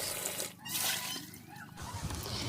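Water pours onto vegetables set to soak, giving a faint, continuous splashing rush with brief dips.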